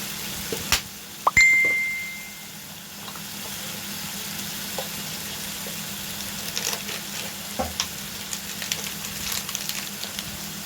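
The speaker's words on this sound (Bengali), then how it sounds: "মশলাটা একটু কষিয়ে নেব" Green chili paste with turmeric and salt frying in a pan for a prawn dish, a steady soft sizzle with scattered stirring clicks, after a sharp metallic clink and ring near the start.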